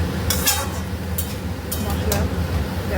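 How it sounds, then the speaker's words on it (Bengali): Vegetables tossed into a pan after a panch phoron tempering are stirred over the heat, with several loud scraping strokes of a spatula over a steady frying hiss. "সবজিগুলো এবার ভালো করে নেড়ে ছেড়ে নেই"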